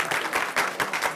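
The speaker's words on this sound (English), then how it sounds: "You can applaud now." Applause at a school board of education meeting, a short burst of many hands clapping in a room, fairly close and steady, with no speech over it.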